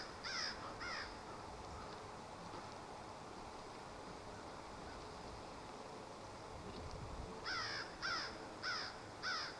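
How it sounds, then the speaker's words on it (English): A crow caws from overhead on a wooded trail, a pair of harsh calls early on, then a run of four evenly spaced caws near the end, over steady wind-like background hiss. "And Mr. Crow up there raising hell."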